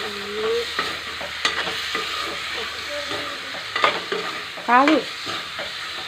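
Marinated chicken sizzles steadily in a hot pan while a utensil stirs and scrapes it, with several scraping strokes over the frying. A voice briefly speaks and there are short tonal squeaks.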